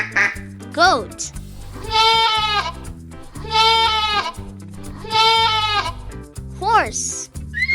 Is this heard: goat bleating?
yes